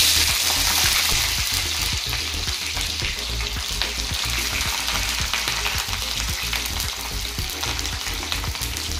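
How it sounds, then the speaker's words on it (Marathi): Cauliflower fries in hot oil in a pan for a khichdi pulao, a loud steady crackling sizzle with a dense hiss and small pops throughout, close by and without talking. "आपण फ्लावर थोडंसं फ्राय करून घेऊया तेलामध्ये"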